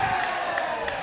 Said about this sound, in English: crowd coming alive for Postie Malone